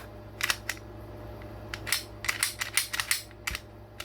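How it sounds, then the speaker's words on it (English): Sharp metallic clacks from a Glock semi-automatic pistol as its slide is worked and locked back, several close, crisp snaps in quick succession with no talk over them. "Lock the slide back, check the mag well is empty"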